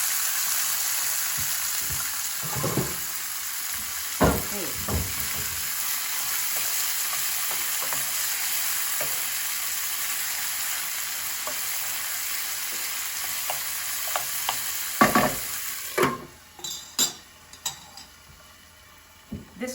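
Puttanesca sauce with capers and kalamata olives sizzling in a pan, a steady frying hiss with intermittent stirring clacks. The hiss drops away near the end, leaving a few sharper knocks of the spoon, with no talking.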